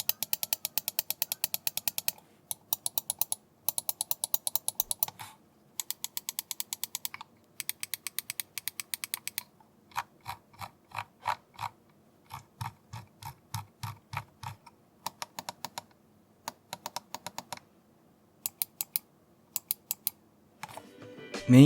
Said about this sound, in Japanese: 次にマウスボタン。 まずは音から聞いてみましょう。